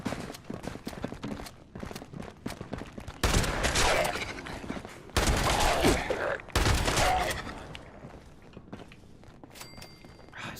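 Gunfire in the online shooter game Fallout 76: several loud bursts of shots, each lasting over a second, separated by quieter clicks and footsteps, with no talking.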